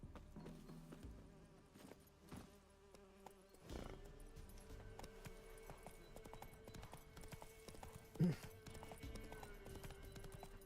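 Roach the horse's hooves in The Witcher 3 video game, making a rhythmic clip-clop, with other game sounds and a buzzing insect-like drone around it and a louder thump near the end.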